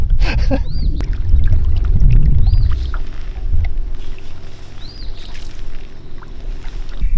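Kayak paddles dip and pull through sea water, with close splashes and swishes in the first few seconds that then ease into a quieter wash of water and wind.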